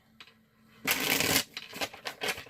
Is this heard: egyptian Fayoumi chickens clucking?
no